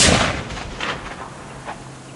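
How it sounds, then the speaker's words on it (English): A blast from six grenades and a quantity of det cord in an open pasture: a loud, broad boom at the start that rolls off into a long, rumbling decay with faint echoes. "that was 6 grenades and a load of det cord"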